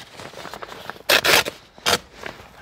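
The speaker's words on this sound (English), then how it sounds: "I found the dullest razor blade I could find, and it still cuts right through this." A dull razor blade slices through old, worn interior fabric in a 1993 Mustang GT convertible, giving a few close, harsh ripping scrapes, two longer tears between faint rustling, with no talking.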